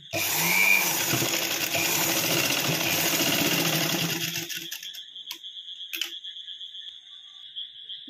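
A sewing machine stitching along the sides of a fabric piece runs with a close, steady motor whir for about four seconds, then stops, leaving a few light mechanical clicks and taps.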